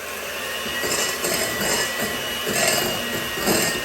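A stand mixer runs on its lowest speed, whirring steadily with rhythmic scraping and thumping pulses roughly every half second as it folds a sausage mixture through.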